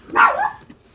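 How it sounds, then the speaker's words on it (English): One short, sharp bark comes from a nearby dog in a residential neighborhood, loud and clear, heard alone without voices. "dog saying hi to somebody."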